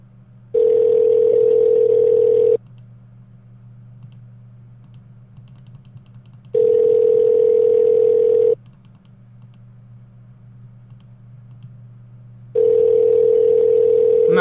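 A telephone rings out on a call being placed, three long steady tone bursts about two seconds each separated by pauses, with faint keyboard typing and a low hum underneath.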